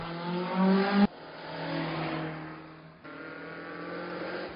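A race car engine, an Opel Kadett City with a 2.5-litre Alfa Romeo six-cylinder, revs hard and climbs in pitch at a hill climb, then cuts to another loud engine run, the roar continuing nearby without talk.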